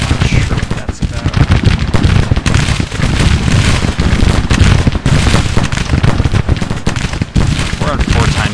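Massed Civil War rifle fire from troops firing at will in a strategy game, played at high speed: a dense, unbroken crackle of overlapping musket volleys, loud and continuous throughout.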